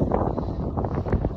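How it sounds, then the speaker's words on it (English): Steady wind buffets the microphone outdoors by big waves while fishing, a low rumbling roar that fills the short stretch with no other clear sounds. "So freaking windy out here, y'all."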